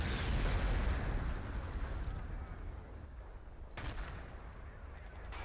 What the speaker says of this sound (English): Artillery from Existence gonna land on the flag.